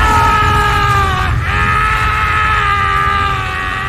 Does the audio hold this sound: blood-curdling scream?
yes